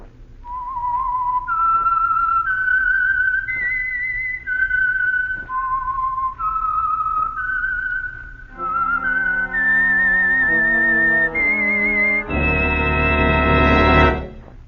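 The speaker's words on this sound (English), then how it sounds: "the signal to listen for is this whistle that identifies the Whistler" A lone human whistler performs the signature tune of The Whistler radio show, a clear, eerie melody of rising and falling held notes with slides, joined near the end by a swelling orchestral chord.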